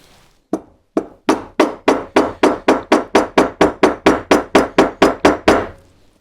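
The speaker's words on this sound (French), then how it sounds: "Donc je vais mettre un coup de ciseau dans le trait qui est là." A chisel is driven into wood to square the corners of a cut, about eighteen sharp, evenly spaced mallet strikes ringing out close and loud in a steady rhythm.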